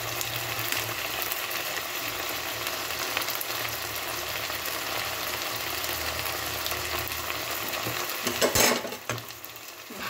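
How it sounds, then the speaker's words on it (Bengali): Ground spices (cumin, turmeric and Kashmiri chilli powder) are stirred in a pan over low heat, giving a steady, soft frying sizzle with scraping of the spoon and a louder clatter near the end. No one speaks. "ভালোভাবে মিশিয়ে নিয়ে লো হিটে মশলাটাকে আমি কষিয়ে নেব"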